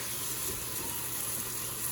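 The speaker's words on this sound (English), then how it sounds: "You can add a little bit of water" Water poured into a hot pan to deglaze an oxtail stew makes a steady hiss and sizzle that runs unbroken and moderately loud for the whole moment.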